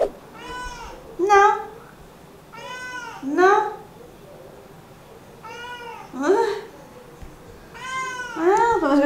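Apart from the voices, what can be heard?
cat meowing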